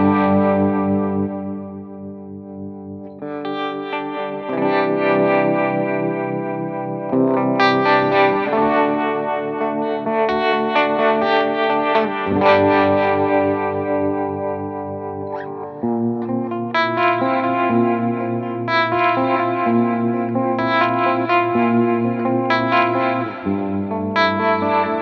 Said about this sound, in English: I'm going to turn the harmonic tremolo on, and it sounds like this.